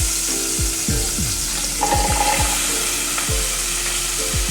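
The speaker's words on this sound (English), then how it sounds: "half a stick of butter. And I'm going to add in my onions." Onions sizzle in half a stick of melted butter in a pan for southern smothered chicken wings, a steady close frying hiss broken by repeated sharp knocks and scrapes of a utensil.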